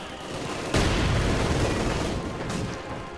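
Machine gun and sniper fire rattle through a Company of Heroes 2 battle, dense and loud with a sharp burst near the start and sustained rumbling gunfire under it.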